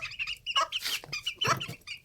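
Young chickens, probably roosters, give a quick series of close, clear clucks and chirpy calls, one after another, with nobody talking.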